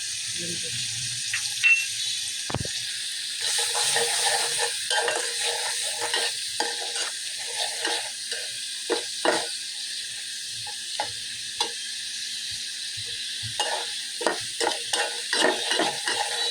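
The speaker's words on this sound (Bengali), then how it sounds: "এখন ভালো করে একটু নাড়বো, যাতে মশলাগুলো আমার সুন্দরভাবে ভাজা হয়, মিক্স হয়ে যায়" A mix of turmeric, chili, coriander and cumin powders is stirred in a pan for a Bengali fish curry, giving a steady close sizzle with repeated scraping strokes of the spoon throughout.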